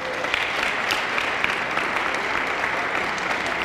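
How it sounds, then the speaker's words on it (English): A crowd claps steadily in sustained, dense applause that fills the whole moment without a break. "let's give them a round of applause."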